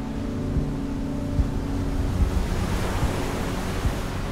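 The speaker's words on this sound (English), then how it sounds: "It's a bit windy by the coast." Wind and surf on the coast at Land's End, with steady wind buffeting the microphone over a broad roar of waves and no voices.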